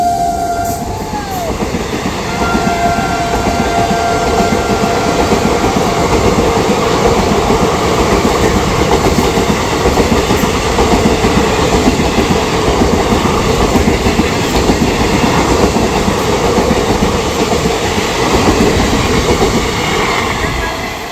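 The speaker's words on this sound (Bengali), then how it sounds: "Sealdah Ajmer Superfast Express." The Sealdah Ajmer Superfast Express passing, a loud continuous rumble with rhythmic clickety-clack of wheels over rail joints, close by, preceded by a brief horn or squeal at the start.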